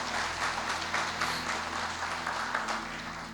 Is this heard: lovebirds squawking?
no